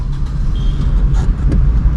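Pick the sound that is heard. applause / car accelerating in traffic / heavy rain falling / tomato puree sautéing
car accelerating in traffic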